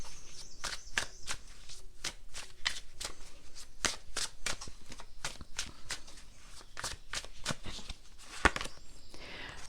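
Tarot cards shuffled rapidly in the hands, a steady run of crisp riffling flicks and slaps, close and fairly quiet, with no talking.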